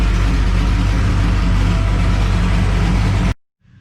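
A Dodge Cummins diesel truck with headers and an X-pipe exhaust idles loud and steady with a deep, rumbling exhaust, then cuts off abruptly near the end.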